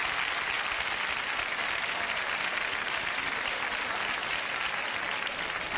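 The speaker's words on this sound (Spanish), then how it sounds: "Ahí estaban los aplausos para nuestro segundo desafío" A studio audience on a TV game show applauds continuously, a dense, even wash of clapping that stays loud throughout without pause.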